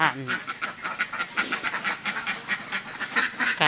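Ducks quacking on a farm in a steady, busy chorus of short nasal calls, fairly close and continuous throughout.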